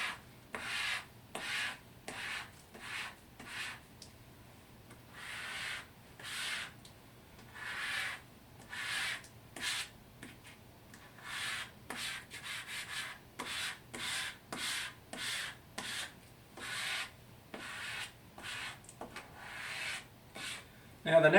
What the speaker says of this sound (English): the squeegee would do just fine.